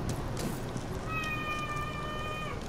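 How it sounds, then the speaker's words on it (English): A house cat gives a single drawn-out meow partway through, clear and fairly close above a steady background hiss, with no one talking. "And that's my cat."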